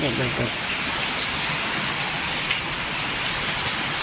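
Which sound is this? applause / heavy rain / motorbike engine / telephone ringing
heavy rain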